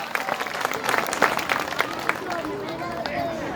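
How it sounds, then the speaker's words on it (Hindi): Applause from a village gathering, with many people clapping in a dense, steady patter, close and fairly loud, and a murmur of voices underneath. "तालियों से एक बार फिर सभी का हम अभिनंदन करें"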